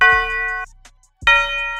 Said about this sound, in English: this bell. This literally just plays the bass note of the chords.